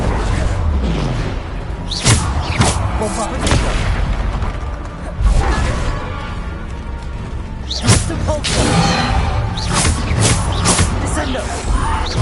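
Repeated Bombarda blast spells from the Hogwarts Legacy video game, booming explosions with whooshing bursts at irregular intervals over a dense bed of game sound and voice.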